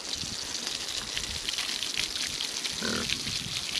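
Water from a hose rushes and splashes steadily into a mud wallow while a pig grunts briefly near the end.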